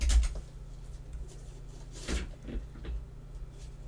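A drawer or cupboard in a craft workspace is pulled open with a short wooden thump and slide, a brief knock at the start and a couple of soft bumps later, moderately close over a low steady hum.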